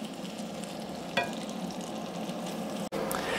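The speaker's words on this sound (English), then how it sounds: "while the shrimp is cooking" Shrimp sizzle in a hot pan for pasta carbonara, a steady soft frying hiss with a brief stir scrape partway through and a short dropout near the end.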